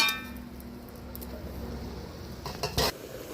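Bottle gourd, now releasing its water, is stirred and fried in a pan, with a soft sizzle and scraping under a few sharp metallic clinks of the spatula near the end.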